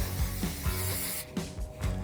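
Cooking oil sprays from a can onto the underside of a cast iron grate for an Oklahoma Joe's Marshal Centerbox smoker. A close, steady hiss lasts about a second, cuts off, and is followed by faint metallic clicks.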